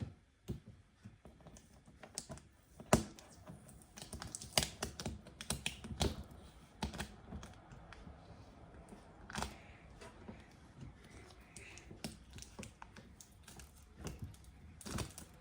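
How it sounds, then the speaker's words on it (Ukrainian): Sharp crackling rips of adhesive tape pulled off a roll, with irregular clicks and snaps, close and fairly quiet. "Ось так відрізаємо чуть-чуть моточок."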